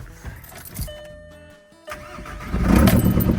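An abandoned 1980 Dodge Power Wagon W300 truck that sat for years is cranked by its starter, falls briefly quiet, then catches and roars to a loud, rumbling idle up close.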